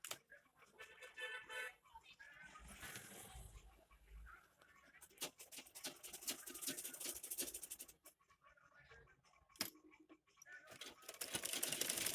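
A sewing machine runs in uneven bursts while a round section of a baby nest is stitched, its mechanical whirring starting and stopping in close, moderately loud runs.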